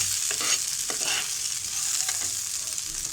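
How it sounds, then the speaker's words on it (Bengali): Corn kernels being stirred into melted butter and regular oil in a hot pan for sweet cinema-style popcorn, a steady close sizzle with scraping stir strokes, no talking. "এখন ভুট্টাগুলো দিয়ে দিচ্ছি, দিয়ে বাটার আর তেলের সাথে ভালোভাবে মিশিয়ে নেব"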